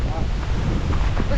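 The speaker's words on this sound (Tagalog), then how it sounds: "Ang lakas ng hangin ah." Strong wind on an outdoor hacienda buffets the microphone with a steady, loud broadband rush that has no clear gusts or pauses.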